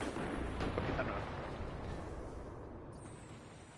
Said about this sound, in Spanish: hay algo dándome explosiones ahí fuerte